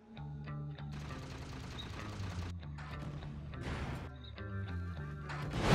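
Gunfire in a staged ambush: rapid bursts of automatic fire and scattered shots run almost continuously under a loud music score, with crashing impacts and no clear speech.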